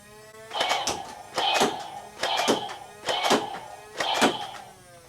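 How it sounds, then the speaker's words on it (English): Star Wars First Order Heavy Gunner Nerf blaster firing five evenly spaced shots, each a loud mechanical burst with a whirring rev, near and alone. "So we'll go ahead and fire off a few shots here real quick."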